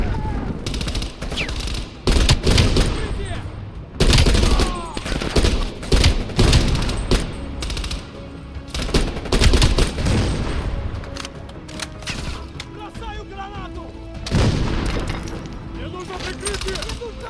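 Heavy gunfire and explosions in a war video game fill the clip, with bursts of automatic fire and booming blasts under in-game radio voices talking throughout, loud and dense with brief lulls.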